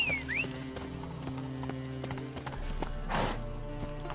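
Horse hooves clip-clopping in the Witcher 3 video game, a steady rhythmic trot at close range over game music, with a brief whinny at the start and a burst of rustling noise near the end.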